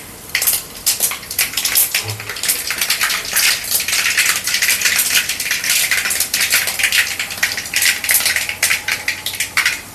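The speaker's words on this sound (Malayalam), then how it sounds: "കടുക് പൊട്ടി നമുക്ക് വറ്റൽമുളകും മുറിച്ചതും കൂടി ഇട്ട് കൊടുക്കാം" Mustard seeds spluttering and popping in hot oil for a cardamom pickle, a dense run of sharp crackles and pops going on steadily for the whole stretch, fairly close and loud, with no talk.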